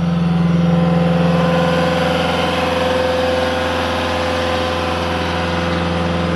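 A Caterpillar 289D compact track loader's engine runs at full throttle with a loud, steady, droning hum and a strong low tone, close to the listener and alone, easing slightly over the span.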